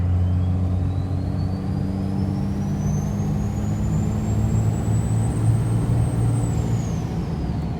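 A third-generation Cummins diesel pickup truck accelerating on a road with other cars around, giving a steady loud engine drone and rising whine, close and continuous with no talk.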